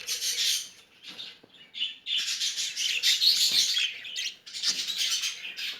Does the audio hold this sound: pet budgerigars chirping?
yes